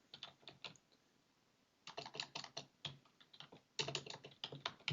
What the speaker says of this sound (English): I'm going to type Python.